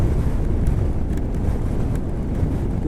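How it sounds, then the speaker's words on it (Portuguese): Strong wind roars across the microphone of a rider on a motorcycle, a loud, dense, continuous buffeting with no voices. "aqui ainda tá ventando muito, ó"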